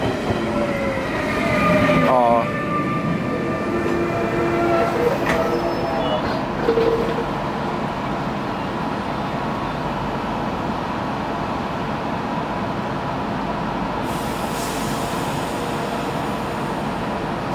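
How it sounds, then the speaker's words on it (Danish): A Danish IR4 intercity train with green doors rumbles past at a station near a canal, a steady rolling roar with rail clatter and a brief squeal early on, continuous and fairly loud throughout; a voice briefly speaks at the start. "IR4-toget"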